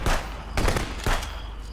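Gunfire in the video game Contraband Police: three or four heavy shots in a steady rhythm about half a second apart, each a loud broad crack with a rumbling tail.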